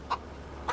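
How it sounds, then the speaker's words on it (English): Chicks in the Farming Simulator 25 video game, two short, soft clucks about half a second apart over quiet background. "Oh wow, look at the little chicks."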